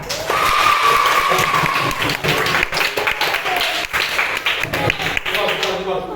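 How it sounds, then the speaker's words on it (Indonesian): Applause from a group fills a classroom, a steady dense patter of clapping with voices mixed in, lasting throughout. "beri tepuk tangan"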